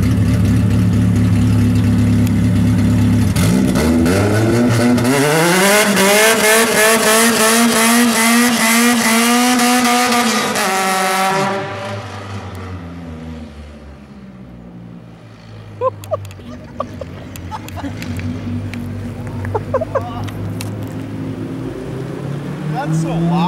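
A Pontiac Sunfire engine revs hard and loud for several seconds in a rising, wavering whine during a burnout attempt, then drops back to a low idle with a few faint clicks.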